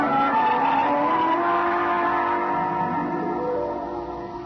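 A radio drama car sound effect: a steady engine drone with shifting tonal whine as the car drives along, fairly loud and alone, easing slightly toward the end.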